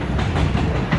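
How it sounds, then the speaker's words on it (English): An express subway train runs at speed, giving a loud, continuous roar and rumble of the railcars with no pauses. "if you ever wonder how much time you save when the train goes express, this will tell you."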